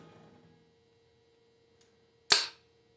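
A single sharp report from a Parker GH double-barrel shotgun cracks out after a faint click, distant and quick to decay, with a low steady hum and quiet background beforehand.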